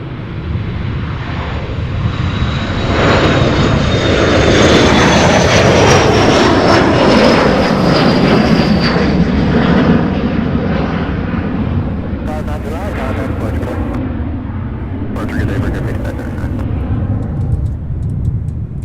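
An Embraer E175 jet taking off at Louisville's SDF airport, a loud sustained roar with a rising whine that swells and slowly fades, with occasional voices nearby over the engine noise.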